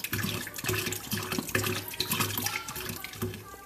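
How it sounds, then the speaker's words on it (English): Cleaning solution is poured out of beer bottles into a sink during home bottling, giving a continuous gurgling, glugging splash with repeated rhythmic pulses as the liquid empties. "I'm going to go ahead and pour out that cleaning solution"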